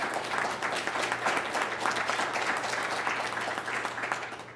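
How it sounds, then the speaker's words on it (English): Audience applause for panelists at a national security and climate adaptation event, sustained dense clapping for several seconds that tapers slightly at the end. "I think they deserve one last round of applause."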